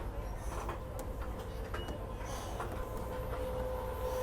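Steady broadband machinery drone with a constant low rumble and a faint tonal hum inside the engine room of a 104-foot Mengi Yay explorer superyacht, continuous and fairly loud with no talk.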